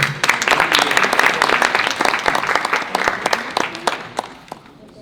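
A crowd at a fundraiser applauds loudly, with dense clapping that fades toward the end.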